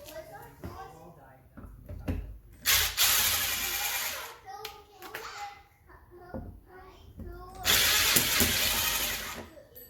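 Repeated short bursts of a power tool whirring and rattling as it removes door hinge bolts from a Jeep JK, loud and close, with someone talking in between the runs.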